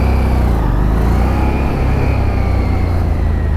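An engine revs and rumbles loudly and steadily at close range as throttle is applied while the clutch is let out to pull away, with a deep, constant low drone and no talk.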